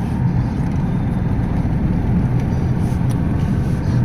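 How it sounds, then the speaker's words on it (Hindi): A Tata Tiago car drives through heavy city traffic, its engine and road noise forming a steady, loud, continuous rumble from inside the cabin with no talking. "ये गाड़ी है कि स्मूथ चल रही है"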